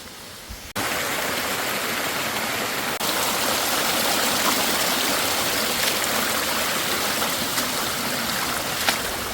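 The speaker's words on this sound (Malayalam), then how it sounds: "അതാ ഈ വെള്ളച്ചാട്ടം ഇങ്ങനെ ഇവിടെ ഉണ്ടാവും" A waterfall and stream by an overgrown forest house site rush steadily in a dense, unbroken roar that starts abruptly and stays loud and close throughout, with no voices.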